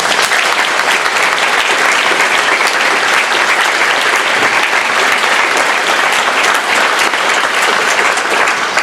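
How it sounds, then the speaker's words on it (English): An audience gives a round of applause for the panel at an onstage discussion event. The clapping is dense, steady and close, and it fills the whole stretch without any talk. "give yourselves and them a round of applause"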